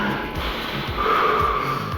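A single slow, deep breath drawn in by a child during a medical exam, close to the microphone, a soft airy rush lasting a couple of seconds.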